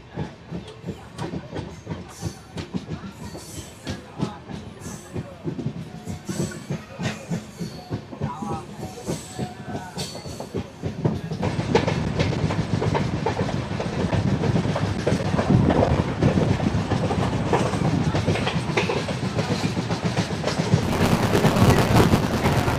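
A passenger train running from Howrah to Digha rattles along the track with a steady clickety-clack and rumble that grows louder and denser partway through.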